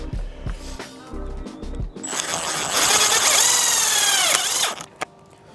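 A power drill whines up and runs steadily for a few seconds as a silver self-drilling screw is driven in without a pilot hole while fitting an awning rail to a VW Transporter, loud and close, after some light knocking.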